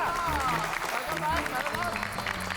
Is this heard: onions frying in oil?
no